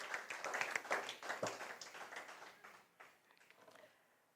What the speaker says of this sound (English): Please, a huge round of applause for the debaters